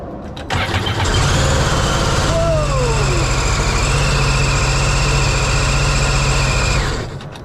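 A 2015 Sea-Doo GTX iS Limited 260 personal watercraft engine cranks briefly, catches, and settles into a loud, steady running hum with a rising whine, close up, then cuts off near the end.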